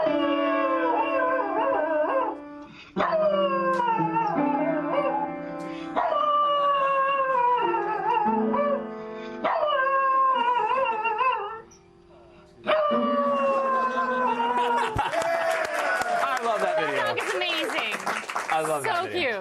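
A dog howls in long, wavering, song-like phrases broken by short pauses, loud and close, before the sound gives way to a burst of noisy clapping or crowd sound at the end.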